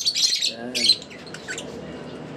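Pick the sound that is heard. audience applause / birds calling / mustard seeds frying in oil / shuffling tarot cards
birds calling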